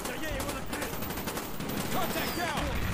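Rapid gunfire and machine-gun bursts crackle in Call of Duty: Black Ops, a dense, continuous barrage of sharp shots over background battle noise with a voice faintly mixed in.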